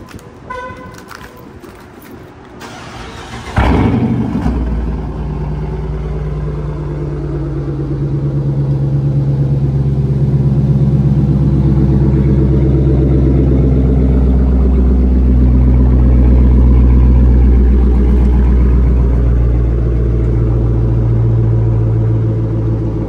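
A Dodge Challenger R/T's loud engine idles, then a sharp blip kicks in and settles into a deep, heavy rumble with rising revs through a straight-pipe exhaust, raw and unmuffled, close to the microphone.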